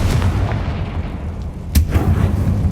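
A Confringo spell explosion in the game Hogwarts Legacy, heard as a loud, deep booming blast with rumbling low end, then a second sharp burst partway through.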